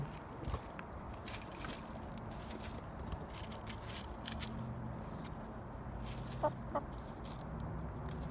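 A chicken pecks at apples and clucks softly, with scattered faint clucks and small pecking ticks over a low outdoor background, fairly distant and quiet throughout.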